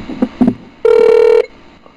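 A telephone dials out to call someone back: a few short key tones, then one sustained steady dial beep about half a second long, loud and close, with no talking.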